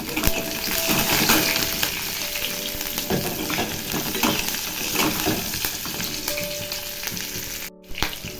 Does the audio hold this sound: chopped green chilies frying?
yes